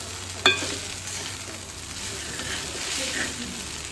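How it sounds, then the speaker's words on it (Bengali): Ghee and ground black pepper go into chira pulao frying in a pan, giving a steady soft sizzle with stirring scrapes and a brief clink near the start, with no talk. "এবার আমি এতে একটু ঘি দেবো আর গোলমরিচের গুঁড়ো দেবো।"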